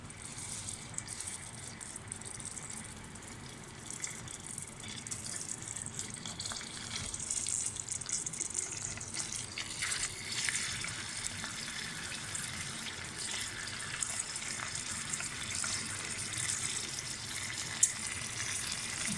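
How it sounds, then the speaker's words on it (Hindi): Chicken tikka pieces fry in hot oil in a kitchen, giving a steady, soft sizzle with a broad hiss that continues throughout, with no talking. "अब हम इसमें जो हमने सारे बनाए हैं टिक्के वो हम इसमें एक एक करके डालेंगे"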